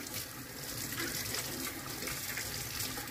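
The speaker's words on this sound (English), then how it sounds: "I'm gonna run my brush under water and I'm gonna work the bristles until my water runs clean." Running tap water streams steadily over a paint brush as its bristles are rinsed clean, a close, even hiss of flowing water with no talk.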